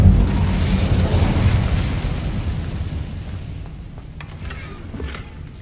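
Incendio fire spell cast in Hogwarts Legacy: a loud fiery burst that erupts at once and then rumbles and fades over several seconds, followed by faint scattered crackles.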